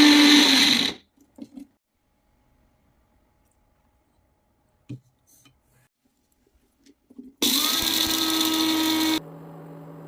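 A blender grinds cashews with water into a paste in a short loud burst, stops into near silence, then whirs again for a second run before slowing down.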